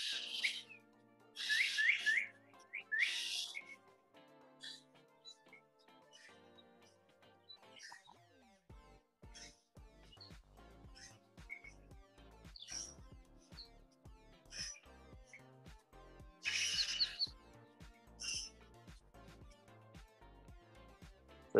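Chirps and whistles from an animated electronic bird on a custom-built circuit toy, arriving in loud bright bursts with quieter warbling in between, over a steady busy electronic backdrop.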